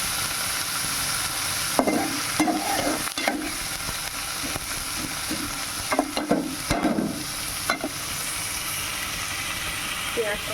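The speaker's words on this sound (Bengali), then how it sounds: "ভালো করে নাড়তে থাকবো" Onions frying in a pan for a soybean dish, a steady broadband sizzle with intermittent stirring scrapes and clacks, and a faint murmuring voice now and then in the background.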